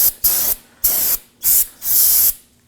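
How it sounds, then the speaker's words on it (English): Brake cleaner is sprayed onto a brake rotor during a front brake job on a 2014-2020 Acura MDX, four close, loud aerosol hisses in quick succession, the last held longest, with no talk. "Spray some brake cleaner on it."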